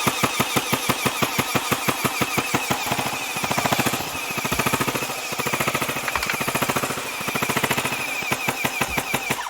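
An XSHOT Hyper Gel Night Venom gel blaster fires in long rapid full-auto bursts, loud and close, a steady mechanical chatter pausing briefly between runs with no talk.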